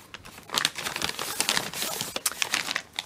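Handmade paper items, including a fold-out booklet made from an old envelope, crinkle and rustle as they are handled in a bag, with irregular bursts of close crackling and short pauses.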